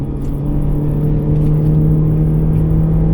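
A BMW E46 with the M44 engine runs on a dyno, holding a loud, steady droning hum with a strong low tone and a constant rumble, close and alone without speech.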